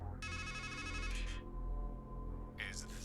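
A telephone rings in the video game Strangeland, two electronic trilling bursts separated by a pause, heard over a steady low ambient drone with a voice nearby.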